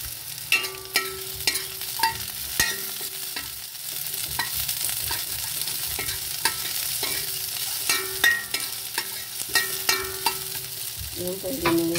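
Aromatics sautéing in oil in a pan before sardines go in, a steady close sizzle broken by repeated scraping stirs of a utensil against the pan, with no talking.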